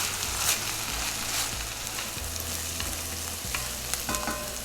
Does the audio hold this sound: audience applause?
no